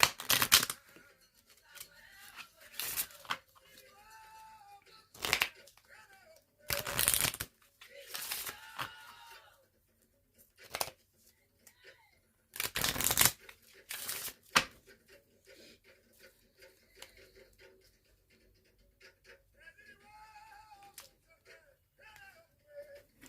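Someone shuffles a Goddess Oracle card deck, making repeated sharp riffling bursts separated by quiet gaps, with soft speech in between.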